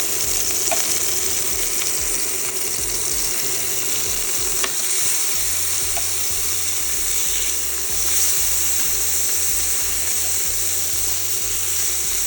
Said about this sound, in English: I've already started my sausage to cooking.